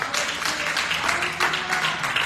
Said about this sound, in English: Somebody clap your hands and give him some praise.